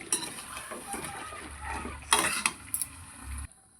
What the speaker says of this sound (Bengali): এবার আমি এর মধ্যে ভেজে রাখা আলুটা দিয়ে এটাকেও কিছুক্ষণ কষিয়ে নেব।